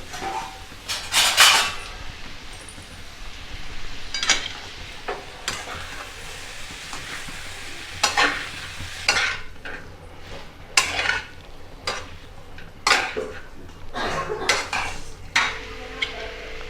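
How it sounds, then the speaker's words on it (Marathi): Boiled, finely chopped potatoes are stirred with salt in a pan for a dry potato sabzi. A spoon scrapes and clinks against the metal in uneven strokes over a light sizzle. "आता आपण यामध्ये घालूया उकडलेले बटाटे जे की आपण बारीक कापून घेतले होते"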